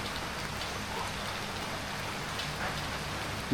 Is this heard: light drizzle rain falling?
yes